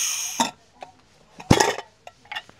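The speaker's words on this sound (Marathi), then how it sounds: "बघा आपला कुकर थंड झालेला आहे, उघडून बघूया बटाटे शिजलेत का नाही।" Metal clinks and clatters as a cooled pressure cooker is opened and its lid handled, several short sharp knocks spread across a quiet kitchen.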